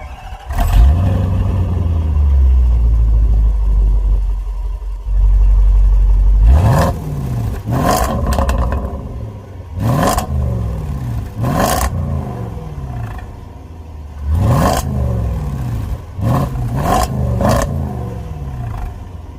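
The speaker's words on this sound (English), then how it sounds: "we have an active quad exhaust system with insane sounds" A 2018 Range Rover Sport SVR's loud engine idles, then revs hard several times in sharp bursts, each rise falling back with a throaty active quad exhaust roar and crackle.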